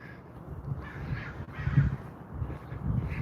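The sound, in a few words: crows cawing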